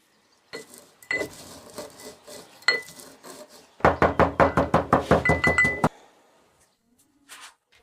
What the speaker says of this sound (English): I'll start with the marinade by grinding all the ingredients.